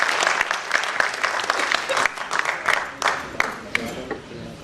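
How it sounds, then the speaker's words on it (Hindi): Audience applause at a Hindi poetry gathering, a dense wash of many hands clapping steadily and fairly close, with brief voices barely showing through the ovation. "ताली बजाओ ऐसे कि अटल कवि को जोश आ जाए"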